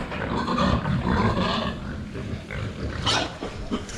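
Three polar pigs in a farm pen give rough grunts and squeals that run continuously and close by, with a few sharper squeals rising near the end.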